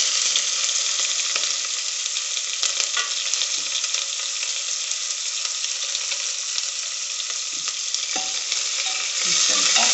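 Bay leaf, cinnamon, cloves, cardamom and onion fry in oil in a pan for chicken biryani, a loud, close, unbroken sizzle with occasional scrapes of stirring and no voices.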